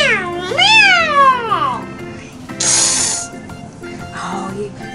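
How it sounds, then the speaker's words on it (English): A drawn-out, wavering cat meow rises and falls, followed by a hissy burst and a softer meow, with speech nearby. "Meow, meow, meow. Kitties are playing."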